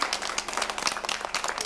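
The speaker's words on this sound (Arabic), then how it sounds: "تصفيق عليها تصفيق عليها تصفيق عليها" Children applaud a girl, producing a burst of brisk, close clapping that is lively and uneven.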